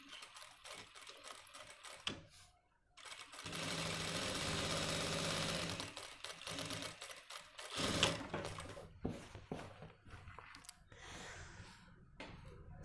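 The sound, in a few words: sewing machine stitching jacket buckram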